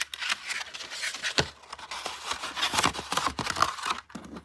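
Scissors cut and trim wrapping paper near the fold, with close crisp snips and paper rustling and crinkling in an irregular run, no voices.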